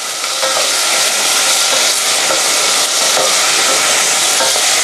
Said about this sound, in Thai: ผัดไปครับคุณผู้ชม ใช้ไฟขนาดกลางๆนะครับไม่ต้องแรงมาก